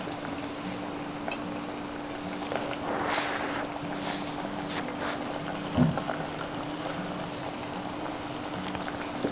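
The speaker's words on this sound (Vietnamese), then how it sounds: "Chờ nó sôi để cho nó mềm cái bắp cải" Kimchi soup with tofu, enoki mushrooms and cabbage boils gently in a pot, giving a steady, soft bubbling hiss with one brief clunk partway through.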